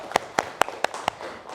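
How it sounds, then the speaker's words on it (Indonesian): A classroom claps for a student in five sharp, evenly spaced hand claps, close and moderately loud, each about a quarter second apart, over quiet room tone. "Oke, tepuk tangan untuk Alena."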